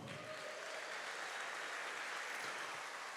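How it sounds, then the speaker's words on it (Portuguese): A church congregation applauds steadily for a few seconds, a dense, even wash of clapping heard from within the room with no talk over it. "Então aplauda esse irmão"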